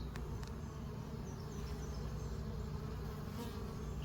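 Honey bees buzzing steadily during a hive inspection, a continuous dense drone at close range with no talk, broken only by a few faint higher passes of individual bees.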